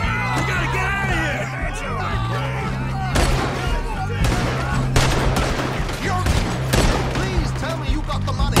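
Gunfire in the open-world western video game Red Dead Redemption 2: several loud, sharp shots scattered across the scene amid music and shouting voices, with characters talking throughout.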